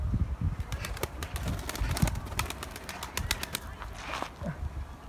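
Homing pigeons fly around near a coop outdoors, with wingbeats, flutters and soft bird calls running throughout, while people talk and shout nearby.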